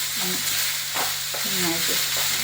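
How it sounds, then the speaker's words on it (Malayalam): Chopped onions sizzle in hot oil in a pan for a chicken kurma, a steady frying hiss broken by a few scraping stirs of a spoon, close and clear with no talking. "സവാള ഇട്ട് കുറച്ച് ഇളക്കി കൊടുക്കാം"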